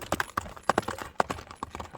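Horse ambling at an easy gait, its hooves striking the ground in a quick, uneven clip-clop rhythm, close and fairly loud, with no voices over it.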